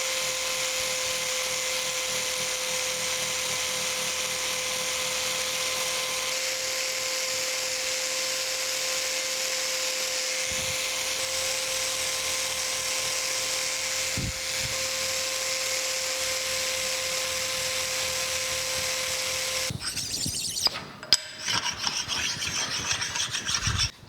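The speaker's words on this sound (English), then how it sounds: "let me get the scraper out and continue on scraping here." A hand scraper works a planer saddle surface in a steady, close, continuous rasping scrape that runs for about twenty seconds. It then breaks into irregular, louder knocks and handling clatter near the end.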